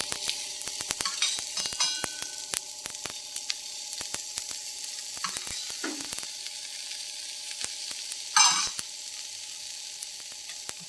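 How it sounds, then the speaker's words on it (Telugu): Onions, green chillies, curry leaves and ginger fry in hot oil for rava dosa, with a continuous crackling sizzle, scattered sharp pops and an occasional brief stirring scrape, close by and without talk. "ఉల్లిపాయ ముక్కలు ఇవి మనం కోసి పెట్టిన ఉల్లిపాయలు పచ్చిమిర్చి కరివేపాకు అల్లం ముక్కలు కొత్తిమీర ఇవన్నీ వేసుకోవాలి తర్వాత కొంచెం ఆయిల్ వేసుకోవాలి"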